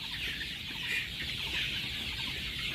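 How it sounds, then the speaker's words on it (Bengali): Sonali chickens on a poultry farm make a dense, steady chorus of soft clucks and chirps, continuous and moderately loud with no talking. "এই মুরগিটার বয়স হচ্ছে 33 দিন।"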